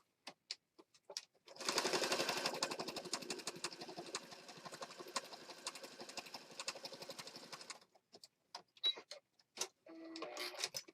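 A sewing machine stitches through a handmade journal in one long, fast rhythmic run of about six seconds, with short isolated clicks and taps before and after, heard close.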